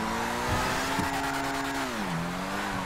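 A fast car's engine in GTA 5 roars steadily and loud, its pitch sliding down near the end, with light tire noise and no talk.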